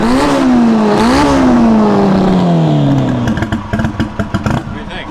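A loud car engine revs high and drops in pitch as it pulls away, its note turning rough and stuttering with choppy misfire-like pops as it fades; a voice is faintly mixed in.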